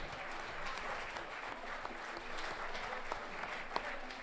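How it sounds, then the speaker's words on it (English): Steady, dense applause from an audience at a school governing board meeting, filling the room evenly with no talk over it. "Let's have one more round of applause for our wonderful Mustangs."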